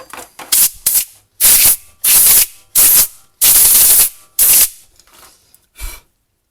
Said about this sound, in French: on va passer un petit coup de soufflette.